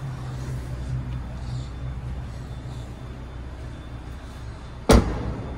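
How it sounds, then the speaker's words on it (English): Rear door of a 2015 Jeep Cherokee Limited shut once with a single solid thump near the end, over steady low outdoor background noise. "Rear door sounds just as solid as the front."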